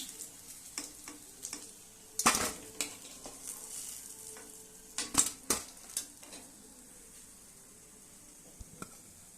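Bread chops deep frying in hot oil, a quiet steady sizzle broken by several clattering scrapes and knocks of a utensil stirring the pan, with no talking.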